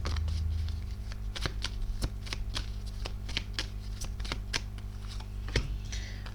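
A deck of tarot cards is shuffled close up, giving repeated crisp riffling snaps and flutters at an uneven pace over a low background hum.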